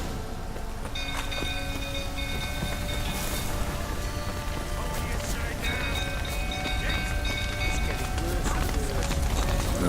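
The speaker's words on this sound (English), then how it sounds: "Looks like rain." Rain falling in The Witcher video game: a steady hiss of rainfall patters on surfaces beneath sustained tonal game music, with a soft voice murmuring in the background.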